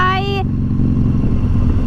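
A motorcycle engine rumbles low and steady close by, under a short voice at the start.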